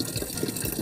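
Mountain spring water flows in a steady, close rushing splash, filling the brief moment without any voices.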